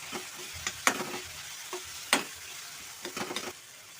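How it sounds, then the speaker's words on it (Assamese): Boiled, mashed potatoes with coriander powder sizzle gently in a pan while a spatula scrapes and stirs in irregular strokes, close by with no talk. "এতিয়া এইখিনি ভালদৰে ভাজোঁ।"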